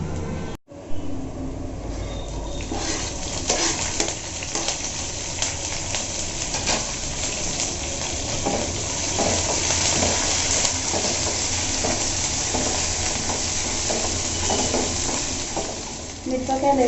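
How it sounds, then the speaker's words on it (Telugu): Chana dal, dried chillies and curry leaves fry in hot oil for poha, a loud steady sizzle with frequent spatula scrapes, close up, after a brief dropout near the start. "శనగపప్పు వేసుకున్న ఒక 1 మినిట్ మనం మిరపకాయలు, కరివేపాకు కూడా వేసుకోవచ్చు."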